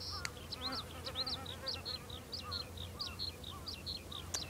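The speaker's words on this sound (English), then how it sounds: "It's kind of a chalky bee buzzing around here. It's definitely a solitary bee." A solitary bee buzzes around a clover bee sanctuary, a faint low drone beneath repeated bright bird chirps in the background.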